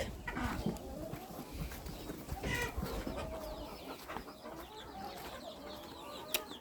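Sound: chickens and chicks clucking

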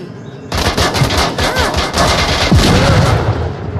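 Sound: grenades and gunfire in the VR video game Onward

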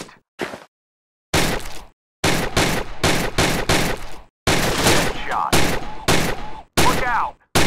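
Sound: gunshots from the video game Gun Club VR

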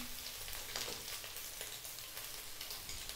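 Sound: stir-frying chicken and garlic in a pan

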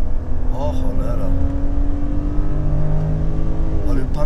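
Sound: BMW 530i E39 engine revving to redline

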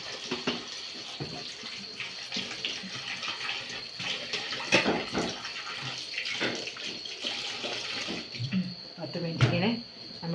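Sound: washing mangoes in water after salt and turmeric

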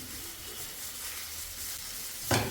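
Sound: sautéing banana and egg mixture in pan over medium flame

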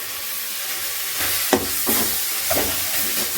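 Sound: ginger-garlic-chilli paste sautéing in tomato gravy

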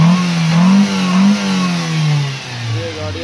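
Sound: Toyota pickup engine accelerating while driving

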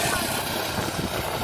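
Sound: go-kart engine running

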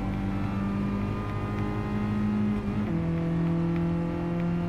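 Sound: Volkswagen Golf I GTI engine revving, Gran Turismo Sport video game

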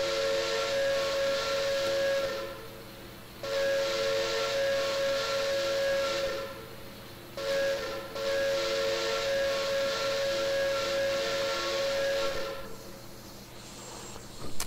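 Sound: steam locomotive whistle, PRR E6 Atlantic in Train Simulator Classic video game

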